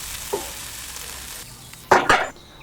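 Tomatoes cooking down to a thick purée in a pan on a Weber Q barbecue, with a faint steady sizzle, a light stir early on, and two louder bursts of stirring and spattering near the end.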